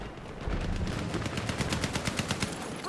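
Rapid hip-fire gunshots in the video game Battlefield 6 crackle in a fast automatic burst, with a dozen or so evenly spaced shots ringing loud and close over a dense background of battle noise.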